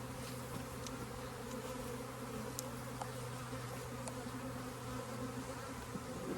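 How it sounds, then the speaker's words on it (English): Honey bees from a colony with a laying worker hum in a steady, dense drone around hive frames full of nectar. The buzz is close and continuous, and no one speaks. "We've got to get every single bee off every single frame."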